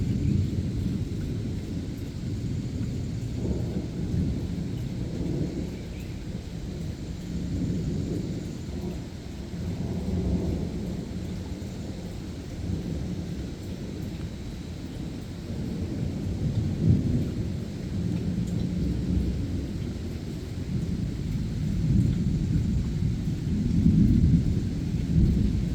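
A steady downpour of rain mixed with deep, rolling thunder fills the air, the low rumble swelling and fading continuously and growing slightly louder toward the end, with no voices.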